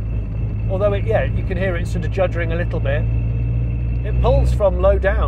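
A tuned 600bhp Toyota GR Yaris drives slowly through a village, its low engine rumble juddering steadily underneath someone talking close to the microphone.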